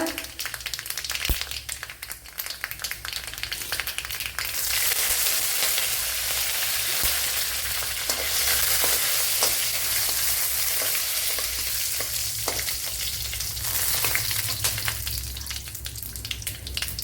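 Green chillies and curry leaves sizzle hard in hot oil in a pan for a Kerala-style egg thoran. The frying hiss is steady, close and loud, with occasional stirring clicks, and no one speaks.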